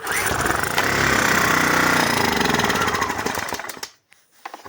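Small inverter generator engine with a clogged carburetor runs loud and close, its buzzing drone surging and wavering before dying out abruptly near the end.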